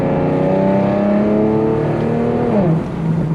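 Engine of an Infiniti G37 revving after a downshift in manual mode: a loud, steady, close engine drone holding pitch, then dipping slightly near the end.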